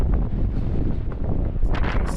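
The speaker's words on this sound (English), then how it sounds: "It is windy" Strong wind at the Silver Stairs in Moab buffets the microphone as a loud, continuous low roar with brief gusting swells.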